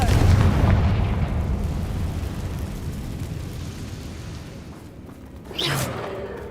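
Confringo fire spell in the Hogwarts Legacy video game, a loud rumbling blast that decays over several seconds, followed by a brief sharp burst near the end.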